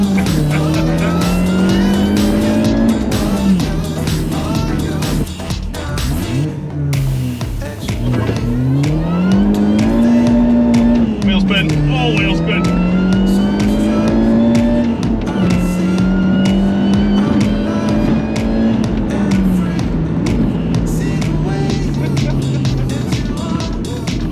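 A GTT-tuned Mini Cooper R53 revs loudly through sustained wheelspin, its engine note rising and falling as it pulls away, with tire squeal layered over the loud, continuous drone.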